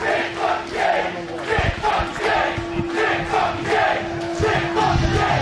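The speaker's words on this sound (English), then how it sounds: "Crowd breaks out into another big Nick fucking Gage chant." Wrestling crowd at an IWA Mid-South heavyweight title match chanting Nick Gage's name, a loud, dense roar of many voices rising and falling in steady rhythmic pulses, with a sustained tone running underneath.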